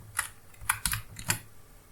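Typing on a computer keyboard, a few separate close key clicks spaced irregularly over a couple of seconds, quiet and with no talk.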